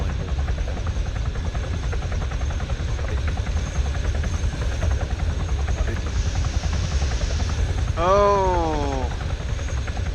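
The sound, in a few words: helicopter flying in the video game Arma 3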